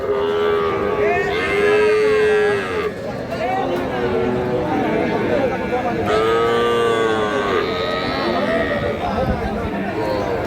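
A bull calf bellows loudly several times amid a busy outdoor cattle market crowd with people talking nearby.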